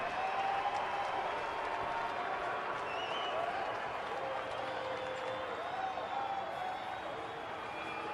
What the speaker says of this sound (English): Crowd getting very noisy now as Montero steps out.